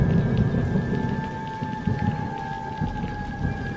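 Heavy torrential rain pours steadily as a dense, continuous hiss, with a faint rising and falling siren-like tone running through it.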